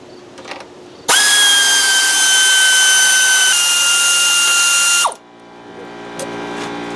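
A power ratchet runs a 7/16 nut off an aftermarket air intake hose: one loud, steady whirring burst of about four seconds that stops abruptly, with quiet workshop ambience before and after.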